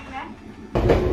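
A cat-themed passenger train running on rails, a low steady rumble that swells suddenly into a louder rush of wheels and carriage noise, with a person talking over it.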